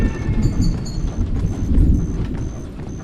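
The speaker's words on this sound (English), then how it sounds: "if it's raining and there's a thunderstorm" Rumbling thunder and heavy rain fill a stormy scene in the video game Thick as Thieves, a dense low roar that swells and fades with faint higher tones on top and no voices.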